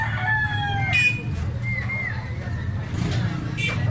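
Young stag rooster, a green-legged regular-size gamecock, crows once at the start amid a busy outdoor yard with a low rumble and other birds, while a voice talks over it.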